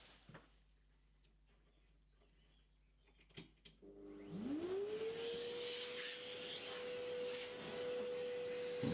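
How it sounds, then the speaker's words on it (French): A vacuum cleaner starts up after a few quiet seconds with faint clicks, its motor whining up to a steady drone while dust is cleared from the joints of a stone wall before repointing with lime. "j'ai passé un coup d'aspirateur pour vraiment dépoussiérer le plus possible les joints"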